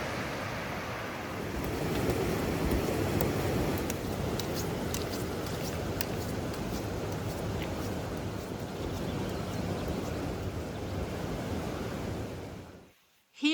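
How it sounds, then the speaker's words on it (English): Dog Falls waterfall on the Affric Kintail Way pours steadily nearby as a broad, continuous rushing roar that holds for about thirteen seconds and then cuts off abruptly near the end. "I'm here beside Dog Falls, which is really beautiful, this waterfall"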